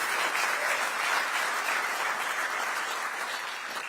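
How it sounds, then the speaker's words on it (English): An audience at a startup demo day gives a steady, dense round of applause, many hands clapping together at moderate volume without a break for several seconds. "Let's give them a round of applause."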